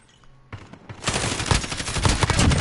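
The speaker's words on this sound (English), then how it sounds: "They're shooting in here." Rapid bursts of automatic gunfire in the video game Modern Warfare during a team deathmatch, starting after a short quiet lead-in and then rattling loudly and continuously to the end.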